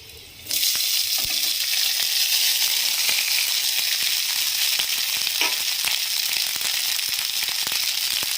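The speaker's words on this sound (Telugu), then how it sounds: "ఇవి ఇలా ఫ్రై అయిన తర్వాత ఇప్పుడు ఇందులోకి మనం చల్లార్చుకున్న రైస్ని యాడ్ చేసుకుందాము" Cooled rice tipped into a hot pan of fried tempering for ajwain rice sets off a sudden loud sizzle that keeps hissing and crackling steadily close by, with light stirring clicks and no speech.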